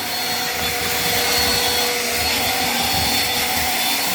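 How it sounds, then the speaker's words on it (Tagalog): A vacuum cleaner runs steadily, cleaning dust off a surface before waterproofing is applied, a loud continuous motor whine and rushing airflow heard close up without speech. "Gumamit ng vacuum bago mag-apply."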